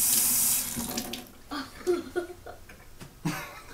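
Water running from a tap into a sink, a loud hiss in the opening half second, then quieter splashes and clatter of sporadic handling.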